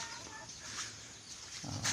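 Laying hens cluck softly and continuously on a small farm growing organic vegetables, a faint, steady murmur of poultry with a brief louder squawk near the end.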